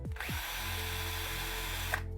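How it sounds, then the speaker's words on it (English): A power drill fitted with a brush attachment whirs steadily while cleaning shoes, spinning up quickly and holding a constant high whine for about two seconds, close and alone. "it was just a load of brushes that you can fit on the end of a drill"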